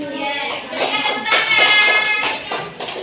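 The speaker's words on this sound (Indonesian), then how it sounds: "berikan tepuk tangan" A school class claps hands together during a teaching lesson, a somewhat uneven burst of clapping from many pupils, close and fairly loud, with voices mixed in.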